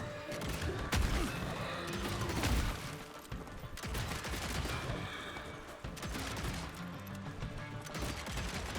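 Dense, rapid gunfire rattles in bursts throughout a fight in the Wild West action game Evil West, with sharp repeated shots and crashing impacts, fairly close and continuous with brief lulls, with no talking.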